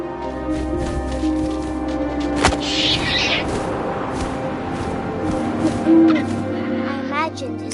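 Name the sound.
owl hooting in the video game What Remains of Edith Finch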